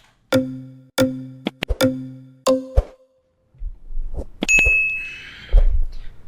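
A bright notification bell sound effect for a subscribe reminder rings several times in quick succession, followed by a short swoosh and a few plopping pops.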